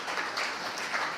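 An audience at a farewell gathering applauds, a brief, even patter of many hands, moderately close.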